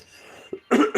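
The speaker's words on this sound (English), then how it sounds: "I have a little bit of a cough." A person coughs, two rough, forceful bursts in quick succession after a brief catch of breath, close and fairly loud against a quiet room.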